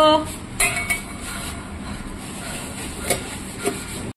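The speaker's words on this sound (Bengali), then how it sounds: "এবার আমি ঢেকে বসিয়ে দেব।" A cooking pot is covered with a lid in a home kitchen, a few sharp metallic clinks and a scrape of metal against metal standing out near and loud over a quiet background.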